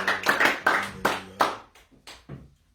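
Church congregation clapping in praise, a handful of loud separate bursts of hands that grow sparser and fade out, with a trailing voice at the end.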